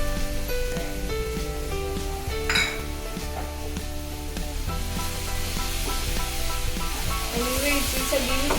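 A pan of carrot halwa being stirred after cardamom powder is added, with steady scraping and clinking of a spoon against the metal and a low sizzle running continuously underneath, close and fairly loud, no talking.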